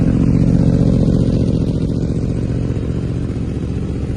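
A 2023 Yamaha R1 sport motorcycle engine runs loud and close, a steady, rough mechanical drone held for the whole stretch with no voices over it.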